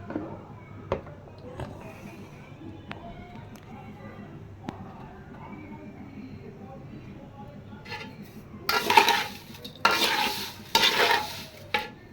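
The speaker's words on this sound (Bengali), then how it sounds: "আমি ঘি দিয়ে আগে ভালো করে একটু ভেজে নিলাম" Something fries in ghee in a pan, with quiet sizzling and light utensil clicks and stirring at first, then louder bursts of stirring and spluttering toward the end; close by, with no talking.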